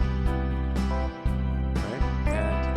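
Hawaiian guitar voice on an arranger keyboard chord track, playing sustained sliding tones within a full accompaniment pattern of bass and chords, steady and moderately loud with no talking.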